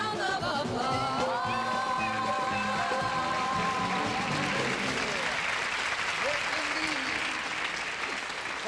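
A television game show studio audience breaks into applause, the clapping swelling into a dense, sustained roar while music or tonal voices carry over the opening seconds, then the applause continues alone.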